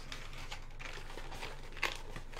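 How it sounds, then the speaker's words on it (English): A paper desk calendar's back is folded, giving soft, faint crinkling and rustling with one small sharp crease near the end, quiet and close with no talking. "basically you just fold the back"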